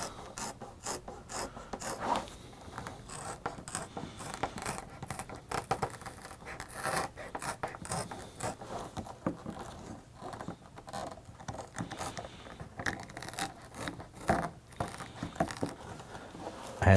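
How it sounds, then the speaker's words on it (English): Leather shears chew through a thick piece of heavy sandal leather, making close, steady rasping and crunching cuts that run continuously with no voices. "I'm gonna use leather shears to do it"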